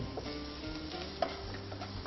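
Chopped onion fries in oil as a faint, continuous sizzle with light stirring and a single soft clink.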